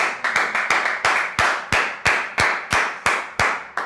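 Church congregation clapping in unison after a prayer, about a dozen sharp, evenly spaced claps at a brisk steady rhythm, loud and close, with no voices over them.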